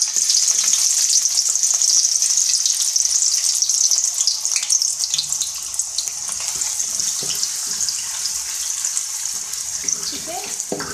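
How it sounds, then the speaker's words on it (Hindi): Onions frying in mustard oil, a steady bright hiss and crackle running continuously and fairly loud throughout, with faint clinks now and then. "इसमें सबसे पहले मैं प्याज डाल रही हूँ"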